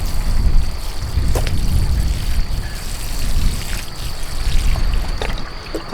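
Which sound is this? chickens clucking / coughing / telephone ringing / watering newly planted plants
watering newly planted plants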